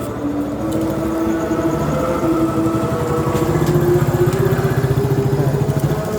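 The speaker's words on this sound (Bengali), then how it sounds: "দাঁড়া, মোটর সাইকেল আসতেছে।" A motorcycle engine rumbles nearby on a road, its mid-pitched drone growing louder and pulsing toward the end as it approaches, heard alone without talk.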